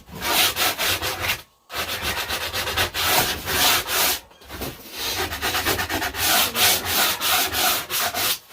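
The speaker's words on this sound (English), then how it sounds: "I like to hand sand to finish it" Steady hand sanding on wood, a rapid rhythmic rasping scrape close to the mic, pausing briefly twice before resuming at a brisk, even pace.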